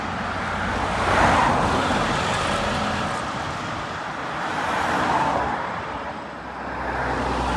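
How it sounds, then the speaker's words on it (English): A Volvo B90L Wright Eclipse Gemini bus pulls into a stop at Downend Sandringham Avenue in Bristol, a broad rumbling engine and road noise swelling and easing at close range. "Here is my next Volvo B90L Right Eclipse Gemini arriving into Down End Sandringham Avenue"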